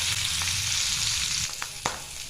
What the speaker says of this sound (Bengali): আলুগুলো হালকা করে ভেজে নিয়েছি